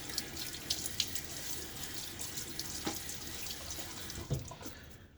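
Tap water runs into a bathroom sink while a face is wetted before a shave with a Gillette Nacet blade, a steady close hiss with small splashes and drips throughout.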